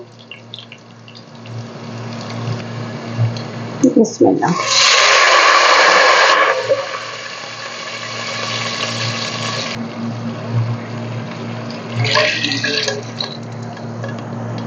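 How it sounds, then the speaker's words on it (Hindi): Water is poured into a pot of fried onions and cumin for tarkay walay rice, producing a loud rushing splash and sizzle for several seconds. A steady hum sits underneath, a second shorter pour follows, and a voice speaks briefly before it. "जीरा हल्का सा करकराए और इसमें हमने पानी ऐड करना है।"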